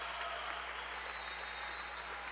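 Steady, dense applause from a large crowd at a Wichita State vs SMU college volleyball match, a continuous wash of clapping heard from a distance.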